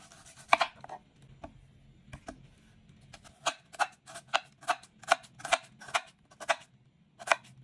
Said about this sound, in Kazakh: 500 грамм пиязды да текшелерге бөліп майдалап тураймыз